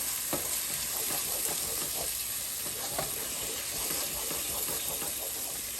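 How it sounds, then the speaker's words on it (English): Cumin and other spices sizzle in a hot pan while a utensil stirs them, steady frying hiss with soft scraping taps at close range. "Just add all, give it a quick stir, saute it for less than 30 seconds."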